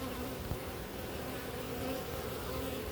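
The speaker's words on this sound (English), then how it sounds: "watch what happens with the other bees" Steady, dense buzzing of many bees around a hive fills the clip, a close and continuous insect drone with no voices.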